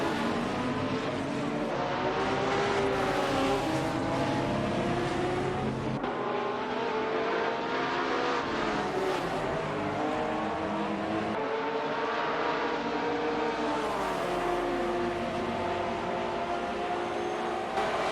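GTR race cars lap Road Atlanta in a racing simulator with AI drivers. A dense, continuous engine roar rises and falls through gear changes and passes, loud and unbroken throughout.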